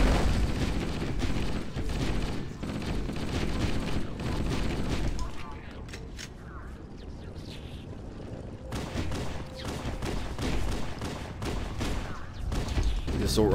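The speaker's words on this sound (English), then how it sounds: "The assault rifle is really good for taking these little popcorn fellows out." Assault rifle fire in Halo: Combat Evolved on Legendary difficulty: dense, sustained automatic bursts with a booming game backdrop, easing for a few seconds before resuming with sharp shots, while a voice talks over it.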